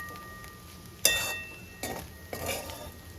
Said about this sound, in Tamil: இப்போ பெப்பரை கொஞ்சம் சேர்த்துருங்க அதோட கொஞ்சம் கொத்தமல்லி தலையும் திருப்பி சேர்த்துருங்க இப்போ நல்லா கலந்து விட்டுருங்க